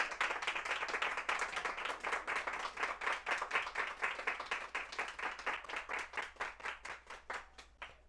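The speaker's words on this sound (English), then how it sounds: "give yourselves a round of applause" Live audience at a cooking show event clapping steadily in a dense, rhythmic patter of many hands, moderately loud and sustained without pause, with no talking over it.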